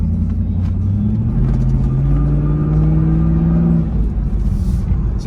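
A 2002 Pontiac Trans Am with a 5.7 LS1 V8 and automatic transmission, heard from inside while driving: steady low engine rumble with a tone that climbs and then drops away as it slows.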